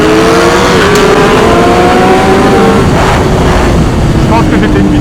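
Ducati Streetfighter V4S 2024 motorcycle engine revving and pulling hard under acceleration, a loud continuous roar with rising and shifting tones, with people talking over it.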